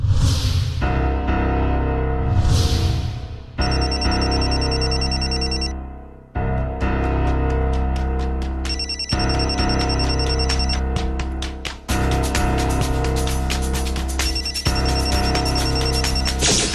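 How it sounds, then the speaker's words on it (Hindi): A mobile phone rings loudly and insistently in a Hindi TV episode, its electronic ringtone repeating in bursts with brief gaps, close and continuous across the whole stretch. "फोन यहां किसी का बज रहा है।"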